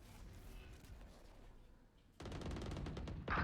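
Gunfire in a Valorant esports match: rapid bursts of automatic shots starting abruptly after a quieter stretch, loud and dense, with a sharp crack near the end.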